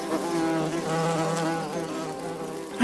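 A bee buzzes close by as it forages for pollen and nectar among garden flowers, a continuous droning hum that wavers slightly in pitch as it moves.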